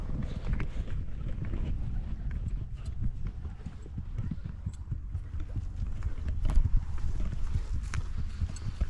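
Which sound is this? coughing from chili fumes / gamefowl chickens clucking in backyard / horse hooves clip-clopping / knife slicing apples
horse hooves clip-clopping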